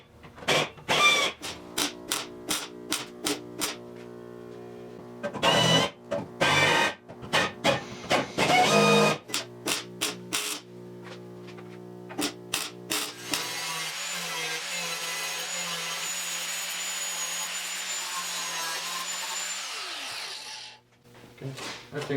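A power tool strips paint from a metal body panel of a 1970 Triumph TR6 before welding. Short on-off bursts of whining, grinding noise come first, then one steady, sustained grind for several seconds before it cuts off.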